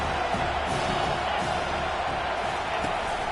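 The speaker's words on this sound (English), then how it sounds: "this crowd trying to help keep them there" Crowd noise in the college football video game NCAA 25, a constant, loud stadium roar of cheering fans that stays level throughout without distinct voices or breaks.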